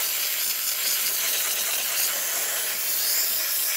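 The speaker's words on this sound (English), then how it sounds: "We're seeing much more steam coming out of the steamer one" Steady, forceful hiss of steam blasting from the steam wand of a Delonghi La Specialista espresso machine, a loud, close, unbroken rush of air with no voices over it.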